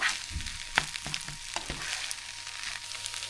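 Tuna egg fried rice being stirred and fried in a pan, with a steady crackling sizzle and several sharp scrapes and clanks of the spatula in the first two seconds.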